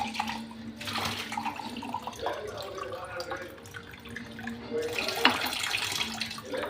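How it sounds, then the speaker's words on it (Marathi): Water runs into a glass flower vase, a steady close pouring trickle that rises and fades across several seconds, with a brief louder splash near the end. "पाणी भरून घेऊ आपण."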